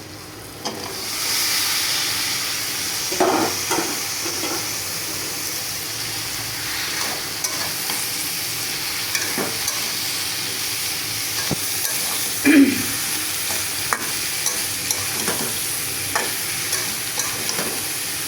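Spices frying in a pan for a dried-fish curry, with vegetables about to go in, give a continuous loud sizzle broken by repeated scraping stir strokes and occasional sharp clicks, no talk over it.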